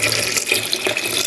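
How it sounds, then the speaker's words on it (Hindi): Water pours steadily into a metal pressure cooker holding bottle gourd and lentils, a brief continuous splashing gush. "अब हम पानी डाल देंगे"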